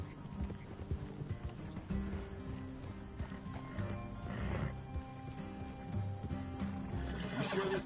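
Horses in the Red Dead video game clip-clop steadily and snort, with a whinny near the end, hooves thudding under a low musical background.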